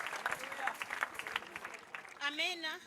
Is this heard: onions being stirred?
no